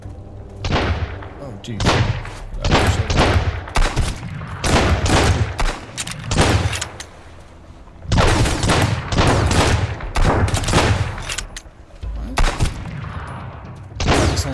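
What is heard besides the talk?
gunfire from a gun in the video game Sunkenland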